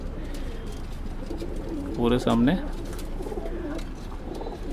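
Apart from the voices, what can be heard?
pigeons cooing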